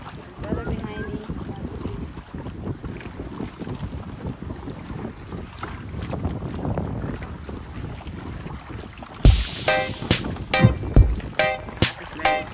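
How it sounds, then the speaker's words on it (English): A boat moving across water while island hopping in the Philippines, with a continuous low engine drone, wind buffeting and splashing; loud sharp knocks and thumps near the end. "We're in the boat."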